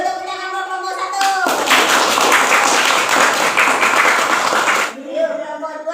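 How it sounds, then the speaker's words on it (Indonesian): Classmates clap for a student group after a presentation, a burst of quick hand claps lasting a few seconds, with voices of a speaker and children before and after the clapping. "Ayo tepuk tangan buat kelompok 1"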